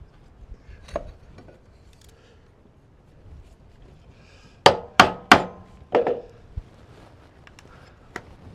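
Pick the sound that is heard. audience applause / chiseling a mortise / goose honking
chiseling a mortise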